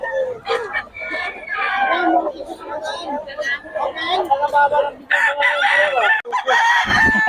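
Several chickens cluck and a rooster crows repeatedly nearby at a poultry gathering in Bocaue, mixed with people talking in the background.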